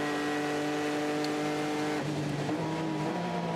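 A Signatech Alpine LMP2 prototype race car at Le Mans sweeps past with a sustained engine howl whose pitch steps down as it goes by, mid-distance and steady.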